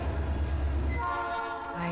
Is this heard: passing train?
yes